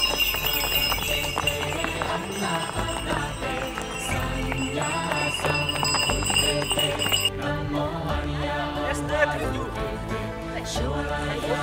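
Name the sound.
horses walking past, hooves clip-clopping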